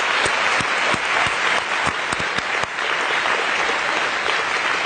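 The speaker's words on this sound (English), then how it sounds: "And let's give them all a big applause." An audience applauds graduate student instructors called up on stage, a dense, loud and steady roar of clapping with a few sharper individual claps standing out, lasting several seconds with no voices.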